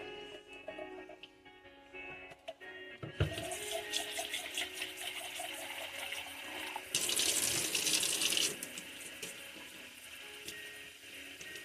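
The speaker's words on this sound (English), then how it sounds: "I'm already running my water." A kitchen tap runs while cans are rinsed, a steady hiss of water that starts abruptly and swells louder partway through before easing off, with faint clinks.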